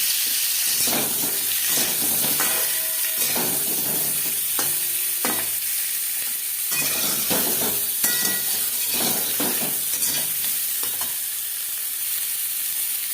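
Boiled potatoes frying in hot oil for homemade mutton biryani, a steady loud sizzle with repeated stirring scrapes throughout and no talk.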